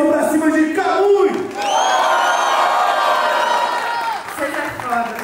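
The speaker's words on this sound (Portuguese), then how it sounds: "barulho, mão pra cima de Camui" Loud crowd at a Brazilian state-level rap battle in Mato Grosso do Sul, cheering, whooping and shouting in a sustained roar for several seconds, with yells rising over the steady mass of voices.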